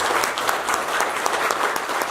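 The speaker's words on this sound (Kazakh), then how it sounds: "Ұстаздарымызға бір қол шапалақ." An audience claps for teachers at a school reunion evening, a dense, even burst of applause from many hands filling the room for a couple of seconds.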